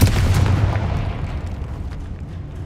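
A Confringo blasting spell explodes in the video game Hogwarts Legacy, a single heavy booming blast with a deep rumble that decays over about two seconds, with no voices.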